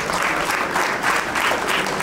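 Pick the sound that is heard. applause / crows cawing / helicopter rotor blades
applause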